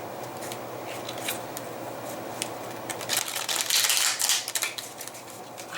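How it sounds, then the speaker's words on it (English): A deck of tarot cards being shuffled up close, a run of crisp riffling and flicking bursts that grow busier and louder toward the end, with no talking over it. "The deck most definitely, I gotta shuffle it."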